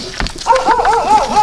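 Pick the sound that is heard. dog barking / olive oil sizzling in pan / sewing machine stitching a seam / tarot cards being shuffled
dog barking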